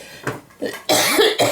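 A person with a lingering cough after COVID coughs several times in quick, harsh bursts, close and loud.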